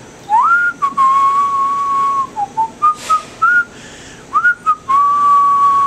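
A person whistles a loose, wandering tune while waiting for Polaroid film to develop, clear, close and loud, with short phrases broken by brief pauses.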